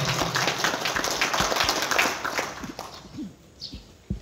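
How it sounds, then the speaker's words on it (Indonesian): An audience claps at a ceremony installing political party branch officials, a dense round of applause that fades to a few scattered claps. "kita kasih tepuk tangan yang mulia"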